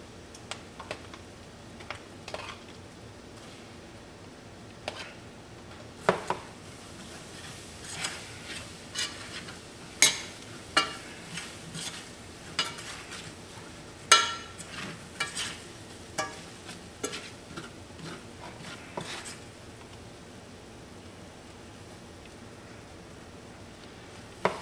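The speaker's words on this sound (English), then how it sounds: "I just take it and brown me some flour." Flour browning in a hot pan while being stirred, a faint background hiss broken by scattered, irregular metallic scrapes and taps that come more often in the middle.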